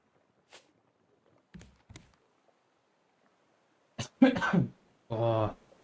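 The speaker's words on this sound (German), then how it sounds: "Nervt das mit dem Husten." Several short, sharp coughs and throat clearings come through close and fairly faint, spaced out over a quiet background, ending with a longer harsh burst.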